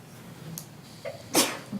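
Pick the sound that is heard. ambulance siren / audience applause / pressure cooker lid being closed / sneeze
sneeze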